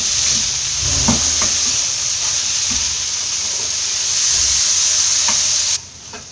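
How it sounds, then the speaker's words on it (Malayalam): Jackfruit seeds for Kerala-style mezhukkupuratti fry in a pan with a steady loud sizzle, while a spoon scrapes and stirs them in a few distinct strokes; the sizzle cuts out abruptly near the end. "ഇത് നന്നായിട്ട് മിക്സ് ചെയ്ത് ചെറുതായിട്ട് ഫ്രൈ ആക്കിയെടുക്കാം. ഇങ്ങനെ ഇടയ്ക്ക് ഇളക്കി കൊടുത്തുകൊണ്ടിരിക്കണം."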